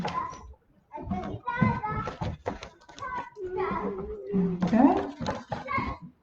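Schoolchildren play and run around in an outdoor area beside a classroom, their voices, shouts and squeals rising and falling in irregular bursts at moderate distance.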